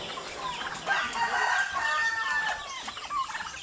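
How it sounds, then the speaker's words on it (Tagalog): Chickens cluck and call outdoors on a Philippine farm, with several birds chattering close by in overlapping bursts. No one speaks over them. "Yan yung mga manok, nasa labas na oh."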